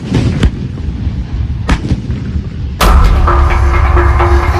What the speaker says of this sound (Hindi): ये थार की वो युद्ध भूमि है जहां हिंदुस्तानी तोपें गरजती हैं और दुश्मन थर्रा उठता है